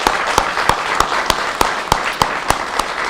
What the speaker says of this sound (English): Y'all give these people a round of applause.